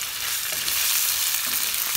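Chopped tomatoes hit a hot pan and sizzle loudly, a dense, steady frying hiss with faint stirring, no voices.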